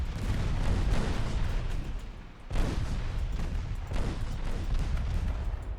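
Battleship main and secondary guns firing in the naval video game Ultimate Admiral Dreadnoughts, a dense rolling barrage of deep booms that dips briefly mid-clip, then resumes with repeated heavy blasts.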